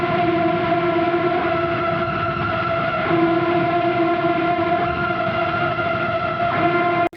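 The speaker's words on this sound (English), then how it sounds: "creepy ambience" A creepy ambient backing-track layer holds a steady, droning tone with stacked harmonics and faint scratchy textures, loud and continuous until it cuts off abruptly.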